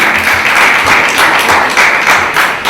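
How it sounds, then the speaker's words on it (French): An audience at a business training session applauds a speaker, with steady, loud, close clapping filling the whole short stretch. "je vous demande de faire beaucoup d'applaudissements pour Vraiment Maïga"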